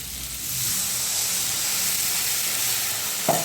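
Water is poured into spiced potatoes frying in a pan for a Bengali banana-flower dish. A broad, steady sizzle and steamy hiss swell up and hold, ending with a brief clunk.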